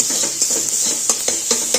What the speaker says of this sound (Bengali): আদা দিয়ে দিয়েছি, আদা রসুন আর এই শুকনো লঙ্কাটা একটু মানে ভাজা করে নিচ্ছি